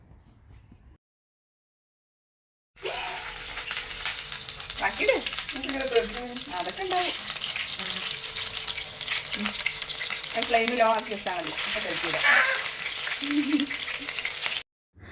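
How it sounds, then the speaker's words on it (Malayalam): Water left in a hot pan before adding coconut oil spatters and crackles loudly after a short silence, a dense sizzle lasting about twelve seconds while people talk over it. "വെളിച്ചെണ്ണ ഒഴിക്കുന്നതിന് മുന്നേ പാനിൽ കുറച്ച് വെള്ളം ഉണ്ടായിരുന്നു കേട്ടോ അത് ചൂടായപ്പം പൊട്ടിത്തെറിച്ചതിൻ്റെ പ്രഹസനം"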